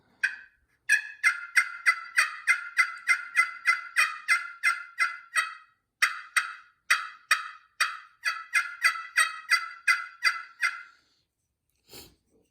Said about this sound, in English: I think that's the sweet spot for this call for yelps